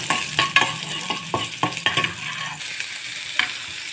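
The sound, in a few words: ginger garlic paste frying in ghee, stirred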